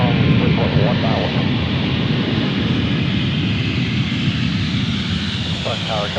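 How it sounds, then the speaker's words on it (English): Boeing 737 MAX 10 airliner landing at Boeing Field, a loud steady jet engine roar filling the whole stretch with faint radio chatter at the start and end. "There it is, the MAX 10, everybody."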